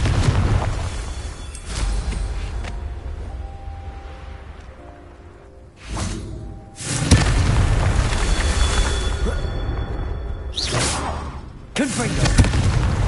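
Fiery Confringo spell explosions in the Hogwarts Legacy video game, several loud booming blasts with rumbling tails, some arriving in quick succession, set against combat effects and game voices.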